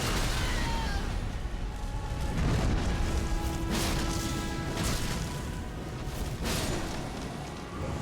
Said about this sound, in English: this phase he spams the explosion move